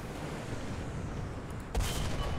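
In War Thunder tank combat, a tank cannon fires with a single sudden loud boom near the end, following a stretch of rumbling battlefield background noise.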